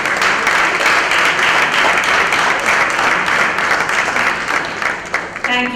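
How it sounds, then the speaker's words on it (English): Audience applause fills an awards night hall honouring media friends, a steady dense wash of many hands clapping throughout, with a brief voice near the end. "Ladies and gentlemen, a big round of applause for all our media friends"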